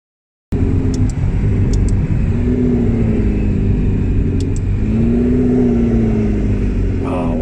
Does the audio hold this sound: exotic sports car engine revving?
yes